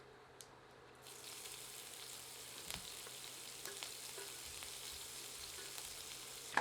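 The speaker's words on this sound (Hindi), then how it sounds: "कुछ सेकंड्स भूनने के बाद इसमें कटा हुआ लहसुन और हरी मिर्च डालते हैं।" Cumin, asafoetida, chopped garlic and green chilli fry in hot oil for a banana flower sabji, a sizzle that starts abruptly and then holds steady and crackling close by, with a few light stirring knocks and no talking.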